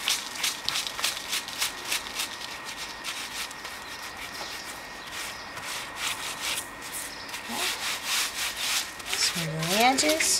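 A gloved hand rubs and smooths grout lines between tiles, producing a steady close scratchy rubbing in quick repeated strokes that runs throughout, with a brief voice-like sound near the end.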